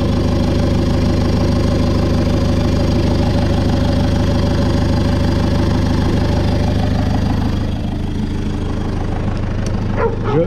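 A Renault Ulysse with a newly fitted turbo idles loudly and close after starting, its engine churning in a steady, dense rumble that eases slightly toward the end, with faint clicks near the finish.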